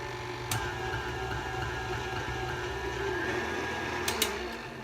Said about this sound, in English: with the seam side down, I'm going to run it through on the widest setting